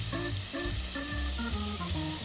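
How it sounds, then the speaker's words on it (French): Squid pieces frying in hot oil in a sauté pan, a steady close sizzle running throughout with a low background hum, no voices. "je renverse délicatement l'intégralité de mes morceaux de calamars dans la sauteuse petit à petit"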